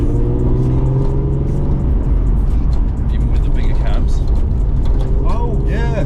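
A tuned Nissan Skyline R34 GT-R engine drones loudly and continuously from inside the cabin, with rising and falling revs, while people talk over it.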